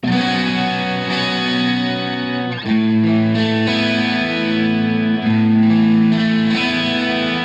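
Thick wall of four multi-tracked, heavily distorted electric guitars panned left and right, playing sustained power chords together, loud and dense with a few chord changes and no voices.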